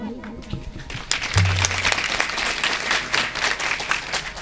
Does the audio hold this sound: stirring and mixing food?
no